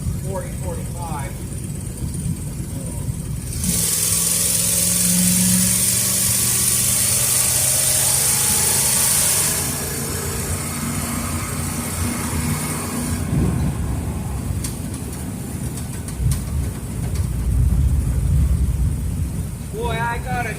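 A Ford Fairlane with a Street Avenger carburetor runs at about 2,000 RPM while driving near 40–45 mph, its steady engine drone and road rumble continuous throughout, with a louder surge in the middle and some vibration under it.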